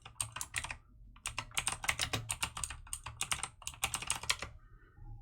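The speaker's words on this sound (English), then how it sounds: "My keyboard's really loud." Rapid, clattery keyboard typing in bursts, loud and close, with brief pauses between flurries.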